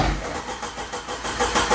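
Engine of a 1988 Jeep Wrangler YJ, abandoned for years, cranking and catching into a rough, uneven run, loud and close with no voices.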